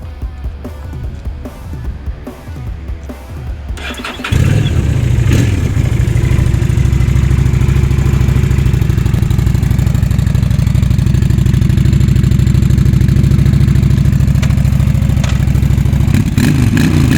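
A Honda Shadow 750 Spirit A2 motorcycle starts abruptly after a few quiet seconds, then settles into a loud, steady, throbbing idle that runs on close up until the end.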